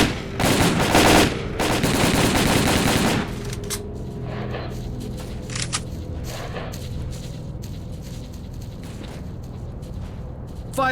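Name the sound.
gunfire in the video game S.T.A.L.K.E.R. Call of Pripyat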